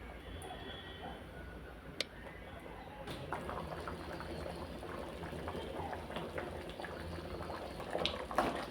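Quiet, continuous bubbling and simmering of coconut kalan kulambu curry with vegetables in a pot, with a few faint clinks, close by and steady throughout.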